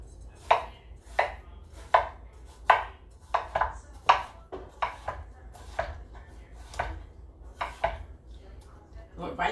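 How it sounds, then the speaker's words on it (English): A knife chops through watermelon on a cutting board, about fifteen crisp, evenly spaced strikes close up, each a sharp thunk against the board. "I think I want to cut that in halves again."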